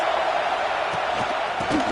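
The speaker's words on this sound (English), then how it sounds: "This crowd trying to make life miserable for this offense." Crowd noise at a football stadium during a game, a continuous broad roar that holds steady, with a few faint thumps and knocks scattered through it.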